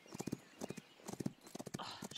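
Horse hooves gallop in a quick rhythmic clip-clop during a race in the video game Rival Stars Horse Racing, the beats rolling steadily in faint repeated clusters.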